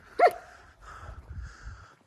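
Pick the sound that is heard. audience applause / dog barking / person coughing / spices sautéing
dog barking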